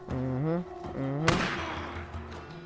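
Gunfire from enemies positioned above in the video game Days Gone: one sharp loud shot cracks out partway through and decays, with someone talking before and after it.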